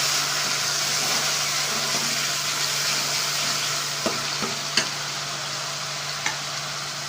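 Tomato paste is stirred into a frying masala in a pan for chicken rice. A constant close sizzle runs throughout, broken by a few scraping knocks of the spoon against the pan in the second half.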